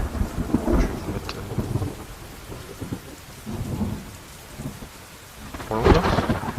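A thunderstorm with steady rain on surfaces, low thunder rumbling in swells and a louder crack near the end, played alone for ambience.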